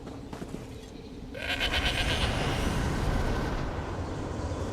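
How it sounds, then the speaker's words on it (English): A goat bleating in Elder Scrolls Online, a drawn-out nasal call rising over steady game background noise, fairly loud and close. "What a good goat!"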